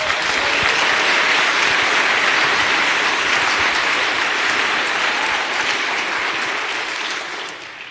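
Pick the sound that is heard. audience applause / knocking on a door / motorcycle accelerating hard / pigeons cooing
audience applause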